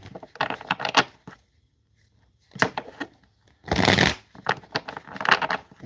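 Tarot cards shuffled in quick riffling bursts, crisp and close, with pauses of near silence between bouts of flicking.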